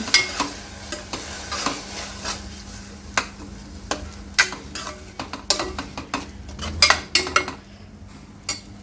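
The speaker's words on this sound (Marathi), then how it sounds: "कांदा परतल्यानंतर यातमध्ये मी टोमॅटो घालून घेतला आहे आणि आता आपण हे सगळं छान शिजवून घेऊ" Onion and tomato fry in a pan for ragda, with a constant low sizzle under frequent quick scrapes and clinks of a spoon against the metal, loud and close, no voices.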